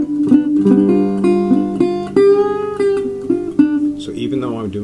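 Slide guitar in open G tuning plays a phrase with a slight micro bend on the G, sustained, ringing notes sliding between pitches at a steady moderate level, with no talking.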